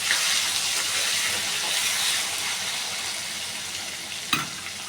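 Browned potatoes frying in a pan as green chillies and a small tomato go in, giving a steady close sizzle that eases slightly, with a brief sharp clatter near the end.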